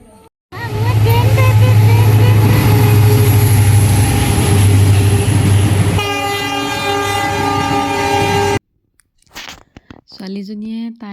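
A passing train, watched by a young girl seeing one for the first time, roars loudly and steadily with horn-like tones for about eight seconds, then cuts off. Voices follow near the end.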